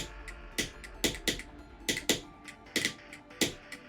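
Keys or mouse buttons click in a fast, steady rhythm during a rhythm game, sharp close taps repeating over a low background hum with no talking.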